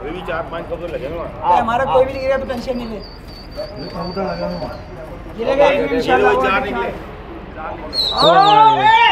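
Pigeons coo and flutter nearby while someone talks over them, with chirpy bird calls rising at the end.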